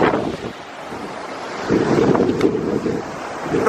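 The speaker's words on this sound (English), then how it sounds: "It's really noisy in here between the wind" Strong wind gusts through a canyon beside South Boulder Creek, buffeting the microphone in rough bursts over the steady rush of creek water nearby.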